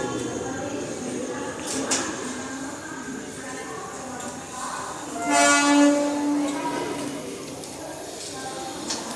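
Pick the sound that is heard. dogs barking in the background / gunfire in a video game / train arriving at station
train arriving at station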